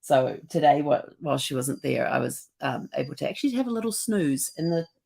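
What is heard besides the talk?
No distinct noise like a dog, phone or traffic.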